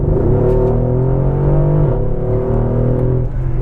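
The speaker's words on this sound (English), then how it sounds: "Acceleration, I'm gonna floor it." A Mercedes AMG GLE63 Coupe engine roars continuously at full throttle, loud and close, with a steady rising drone and gear changes as the SUV accelerates hard.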